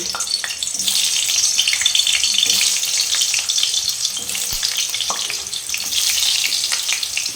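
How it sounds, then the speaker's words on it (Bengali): Loud, continuous hiss of potatoes frying in hot oil, with occasional soft knocks of a utensil against the pan, close and without speech. "আলুটা ভাজার জন্য"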